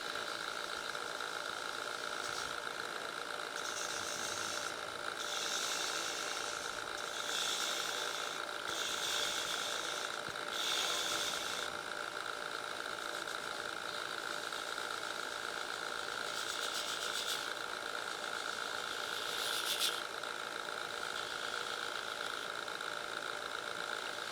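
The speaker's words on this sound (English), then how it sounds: "I'm using the gouge here because it's easier to get started here at the first part with the gouge" A wood lathe spins steadily while a gouge cuts the turning, giving a continuous motor hum with intermittent scraping, hissing bursts as the tool bites the wood.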